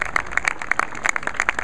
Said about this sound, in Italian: Un altro applauso, poi vi conosceremo meglio.